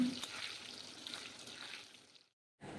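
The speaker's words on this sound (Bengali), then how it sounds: "এখন আলুগুলোকে একদম লাল লাল করে ভেজে নিতে হবে" Potato pieces frying in hot oil for a vegetarian eggplant dish give a steady, broad sizzle that holds for about two seconds, then cuts out briefly before returning loudly at the end.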